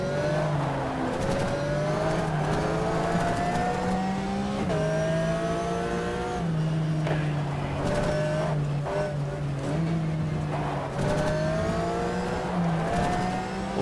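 A Porsche race car in GTR 2's Pan Euro RS 2004 Rookie Cup screams at full throttle, its engine pitch climbing and dropping sharply with each gear change, loud and continuous throughout.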